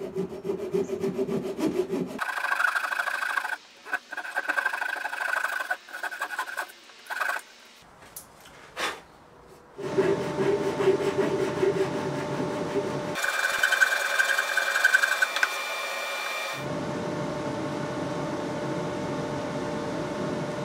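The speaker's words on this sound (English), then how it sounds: "rather than using the bandsaw, we will be forced to use the most useful saw in the world" A hand saw cuts through the veneer on a guitar headstock in long rasping stroke bursts, loud and close, broken by short pauses between runs of strokes.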